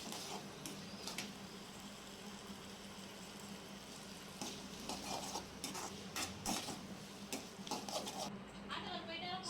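A potato stir-fry stirred in a pan on low heat, with soft scraping and light clinks of a spoon against metal, fairly quiet and intermittent over a steady background hiss.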